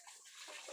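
Water pours and splashes for pigs to drink, a brief, faint, steady gush heard close up.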